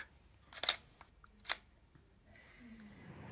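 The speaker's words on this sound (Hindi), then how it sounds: "ये मैंने फ़ोटोग्राफ क्लिक किया" A DSLR camera shutter fires at a 1/40 shutter speed, giving two crisp, close mechanical clicks about a second apart in a quiet room, followed by a faint low hum.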